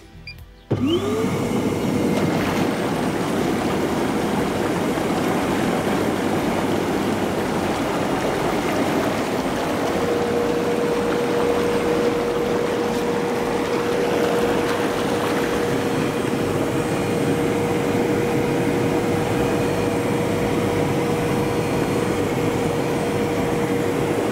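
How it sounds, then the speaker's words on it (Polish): The bubble function of an Intex PureSpa 28462 inflatable jacuzzi switches on abruptly and runs as a loud, steady blower roar with a faint rushing of air bubbles, unbroken to the end. "Jeszcze może drugą funkcję, czyli funkcję bąbelków, pokażę, jak głośno pracuje"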